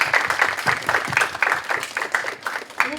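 Audience at a lecture applauds a person named Guilherme with close, loud clapping in a fairly regular pulsing rhythm, continuing throughout.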